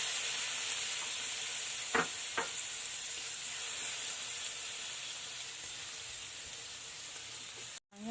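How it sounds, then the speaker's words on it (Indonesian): Mushrooms stir-fried in a pan, a steady hiss of sizzling oil throughout with two brief scraping clacks of the spatula early on, quiet and even, no talking. "Jamurnya kita tumis sampai harum ya guys, sampai benar-benar harum."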